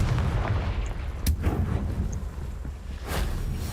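A Confringo spell explosion in Hogwarts Legacy, a deep booming blast with rumbling low end and a couple of sharper cracking impacts over about four seconds.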